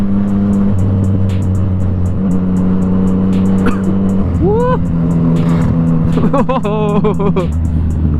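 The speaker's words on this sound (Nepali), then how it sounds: "अरू डिबी किलर केही नभएको वाला जस्ट स्ट्रेट पाइप मात्र. वाइल्ड ब्रुटल सुन्ने आवाज चाहिँ." Yamaha MT-09 motorcycles with straight-pipe exhausts and no dB killers idle loudly, then rev in sharp rising bursts, with people talking over the engine noise.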